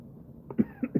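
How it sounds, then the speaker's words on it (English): Three sharp, close coughs from a person who has just been smoking, rising out of near-quiet in quick succession, the second and third coming closer together. "That's making me cough obnoxiously"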